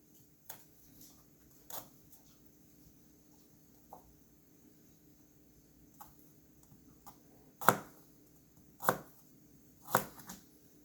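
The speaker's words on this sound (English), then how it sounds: "Just do slices almost all the way up vertical" A knife slices an onion vertically on a cutting board with sparse, irregular taps, a few soft early cuts followed by three louder, sharper knocks near the end, close and with no talking.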